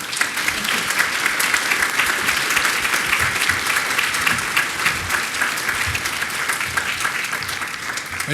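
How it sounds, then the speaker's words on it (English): Sustained audience applause for two panel speakers at an advanced manufacturing supply chain and talent event, a dense steady round of clapping lasting several seconds with little else over it. "Let's give them a round of applause"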